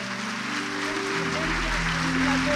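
Church congregation applause at a worship service, a steady wash of clapping under sustained organ or keyboard tones, with a voice speaking over it.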